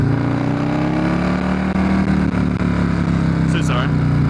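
Perewitz custom Harley-Davidson Softail Slim riding under a bridge, its engine a steady, loud low rumble that shifts slightly in pitch as it cruises, with a brief burst of wind noise near the end.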